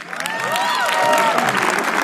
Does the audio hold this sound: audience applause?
yes